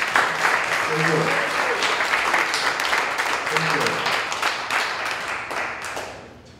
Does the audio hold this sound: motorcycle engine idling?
no